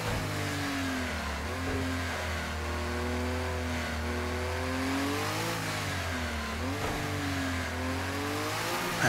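A Group C race car in Project CARS screams at high revs around the Nordschleife, its engine pitch climbing and bouncing off the rev limiter through corners, loud and continuous with a brief squeal of tires.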